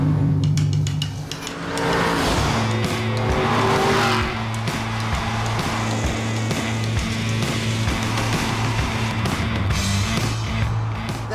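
An Aston Martin V8 Vantage Roadster driven hard, its V8 engine droning steadily with a rising and falling pitch while the tires squeal repeatedly, loud and close throughout.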